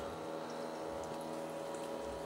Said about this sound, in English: The water system now, I'm doing a test run on it,